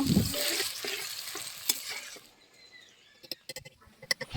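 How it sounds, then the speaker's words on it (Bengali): Thinly sliced onions frying in oil for biryani birista, a loud close sizzle for about two seconds, then quiet followed by scattered light clinks and stirring knocks. "বেরেস্তার জন্য যে পেঁয়াজগুলো কেটেছিলাম তেলে দিয়ে ভেজে নেব"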